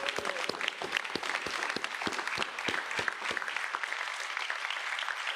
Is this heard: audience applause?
yes